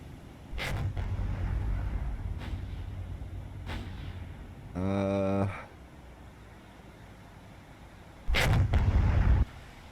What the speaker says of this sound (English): Oh, she's already firing her secondaries.